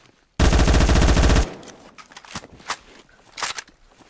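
A loud, dense burst of rapid automatic gunfire with heavy recoil in the video game Phantom Forces lasts about a second, then gives way to faint clicks and scattered quieter handling sounds.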